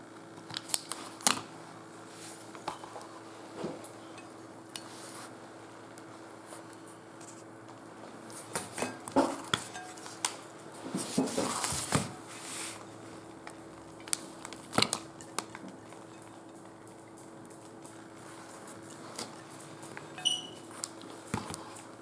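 Scissors snip intermittently at craft material for a Christmas fireplace project, producing scattered quiet cuts and rustling in a room, with no talking.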